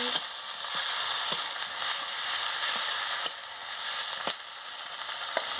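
Masala for egg curry sautéing in a pan, with chopped tomato, chilli powder and turmeric mixed in. A steady, close frying sizzle runs throughout, broken by occasional soft clicks of stirring against the pan, with no voices.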